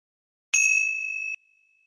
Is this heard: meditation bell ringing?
yes